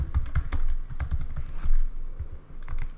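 Quick irregular bursts of computer keyboard typing while coding, close and crisp, with clattering clusters of keystrokes and brief pauses, no speech.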